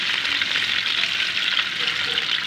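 Peeled boiled eggs frying lightly in a pan, a steady close crackling sizzle that holds even and unbroken throughout.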